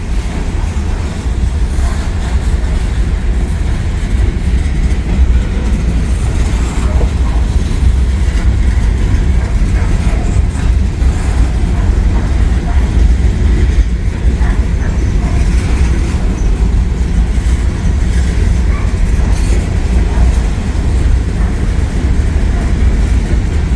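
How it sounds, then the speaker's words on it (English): An empty grain freight train rolls past on a downhill grade, a loud continuous rumble and rattle of wagons that holds steady throughout with no voices. "it looks like an empty grain train"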